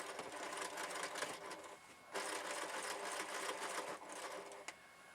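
A small domestic sewing machine with a 7 inch throat quilting a large quilt, its needle running in a rapid, steady close whir with a brief pause and restart midway, no voices.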